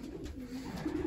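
Racing pigeons coo in their loft, with soft, low, repeated throaty calls that overlap close by against a quiet background.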